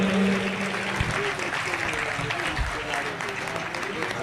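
An audience at an Urdu school speech competition in Bhiwandi, Maharashtra applauds steadily throughout, a dense wash of clapping at moderate distance.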